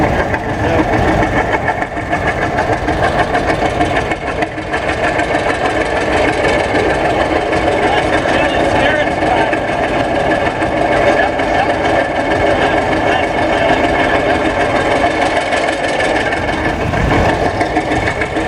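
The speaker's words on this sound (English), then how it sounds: "It's a 4020 diesel, driven by one of our directors here, Mark Burek." A John Deere 4020 diesel tractor, weighted down for pulling at a two-cylinder club tractor pull, runs with a loud, steady rumbling engine note that holds constant throughout, close by with faint crowd noise behind.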